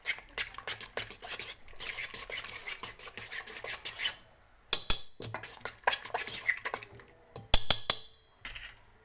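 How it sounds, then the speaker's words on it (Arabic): A spoon scrapes and clinks against a pan as chicken pastilla filling for a savory quiche is stirred, irregular close metallic strokes with short pauses between bursts. "هيا نحرك مزيان"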